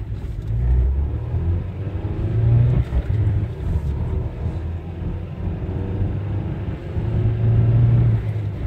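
An Opel Omega B car accelerates to 100 km/h, heard from inside as a loud, steady engine drone and road rumble that rises and swells through the run.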